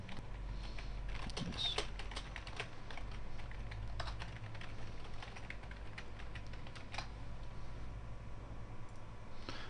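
Rapid key presses on a computer keyboard, quiet and close, in short irregular bursts with a few louder clicks over a low background hum; no voices.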